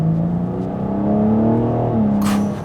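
BMW M4 Competition engine accelerating, a loud, close, continuous throaty roar that climbs in pitch, drops briefly at a gear change and rises again.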